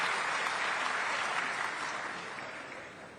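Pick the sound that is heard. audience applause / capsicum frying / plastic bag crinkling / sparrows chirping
audience applause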